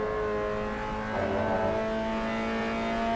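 A race car in the Assetto Corsa EVO driving simulator holds a steady engine note, a dense buzzing drone that swells briefly as the car is pushed hard into a corner with the rear sliding out.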